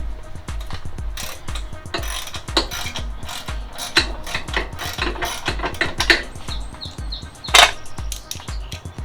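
A 3/8 ratchet clicking in quick uneven bursts while working bolts on a snowblower, close and crisp with short pauses and a few louder clanks.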